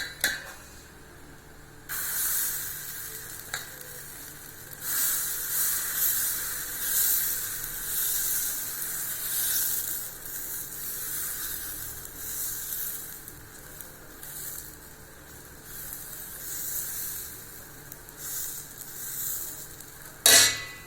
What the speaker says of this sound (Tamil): இப்போ நம்ம தோசைக்கல்லில் ஊற்றிடலாம்.